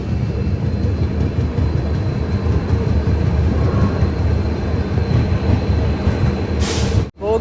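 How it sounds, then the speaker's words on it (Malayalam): A train rolls into Dhemaji station in Assam, its steady rumble and rail clatter filling the recording, with a brief high whine near the end before the sound cuts abruptly. "ട്രെയിൻ ഇതാ ധേമാജി സ്റ്റേഷനിലേക്ക് എത്തിക്കൊണ്ടിരിക്കുകയാണ്."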